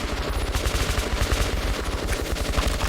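Rapid automatic gunfire in the video game Metro 2033 Redux: a dense, continuous stream of fast, evenly spaced shots at steady loudness that runs the whole stretch with no pause.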